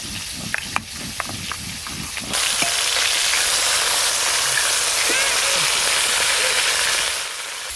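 Fish frying in a pan gives a loud, steady sizzle and hiss that starts abruptly and holds for several seconds, preceded by a few clicks and knocks in a home kitchen.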